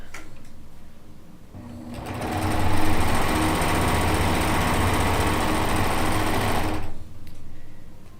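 A sewing machine stitches quilt pieces together, its steady, close motor whir starting after a quiet moment and running evenly for about five seconds before stopping abruptly.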